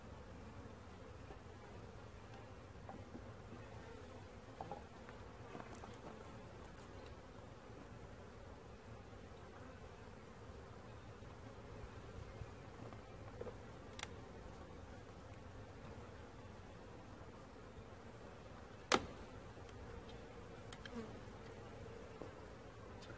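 Honeybees buzz steadily around an open beehive, a faint, continuous hum that holds throughout with occasional small clicks and knocks.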